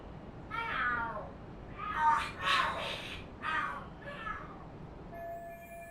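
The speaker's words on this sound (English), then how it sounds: "The hell are there cats fighting?" Cats fight in the video game Lost Judgment, with several loud, drawn-out yowls and screeches in rapid succession, close and prominent, and a faint tone underneath.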